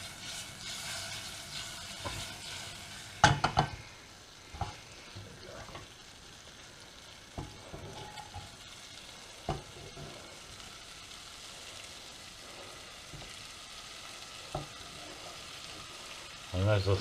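Leeks soften in olive oil in a pan for a gammon and leek crumble, giving a low, steady sizzle with scattered sharp clicks and taps of a utensil against the pan. No one speaks.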